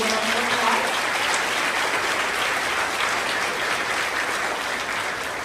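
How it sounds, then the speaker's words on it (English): Sustained applause from an audience at a school awards ceremony for third and fourth graders, honoring a teacher; dense, steady clapping fills the room from start to finish at even loudness. "Give her a great big round of applause."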